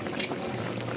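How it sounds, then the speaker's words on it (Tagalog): Sinigang soup with pork ribs bubbling in a pot, a steady soft rolling boil with faint popping, close and quiet, with no talk over it. "Yan, kumukulo."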